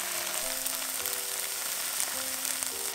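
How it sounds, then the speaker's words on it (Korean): Tofu slices fry in an oiled pan, giving a continuous, even sizzle that stays steady and close throughout, with no talk. "노릇노릇하게 구워주세요."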